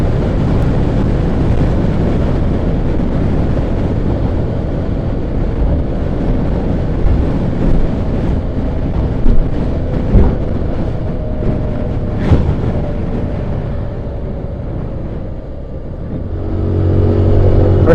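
A Rakuta 150cc Chinese scooter rides through town, its steady engine drone buried under heavy, continuous wind buffeting on the microphone, with no speech.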